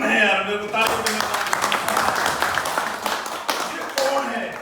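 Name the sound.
audience clapping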